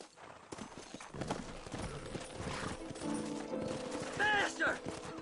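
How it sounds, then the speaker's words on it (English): Horse hooves clip-clop at a quick, steady trot in the Red Dead Redemption video game, with a whinny-like call near the end and sharp gunfire-like cracks mixed in beneath the hoofbeats. "Horses are over here!"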